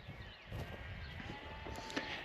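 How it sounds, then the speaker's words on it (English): Weaned sheep on a neighbouring farm across the road bleat repeatedly in the distance over a steady outdoor background, faint and overlapping. "you've probably heard a lot of sheep noise from the neighbour across the road"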